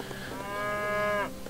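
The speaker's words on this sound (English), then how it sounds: "Look at all the cows." Cattle mooing in the Age of Empires III strategy game: one drawn-out, tonal moo rising and holding for about a second before dropping off, fairly close and clear, with no talk over it.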